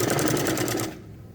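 An electric sewing machine stitches a strip of suit fabric, running fast in a steady close whir for about a second before stopping abruptly and leaving quiet room tone.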